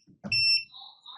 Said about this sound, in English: I will set the alarm.